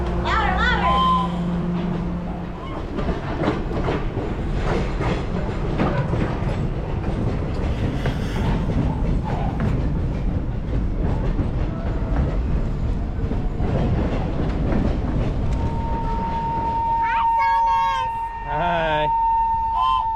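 Thomas the Tank Engine excursion train at a Day out with Thomas event, rumbling and clattering along for a long stretch while children and adults talk over it, with a whistle near the end.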